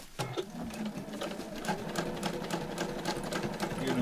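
A sewing machine stitches at a steady fast rate, its needle mechanism producing a continuous rapid mechanical chatter that runs for the whole stretch, close and clear with no talking.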